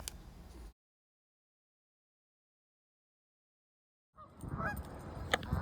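Geese honk in a brief burst, then silence for a few seconds, and a group of geese honks again, louder and outdoors.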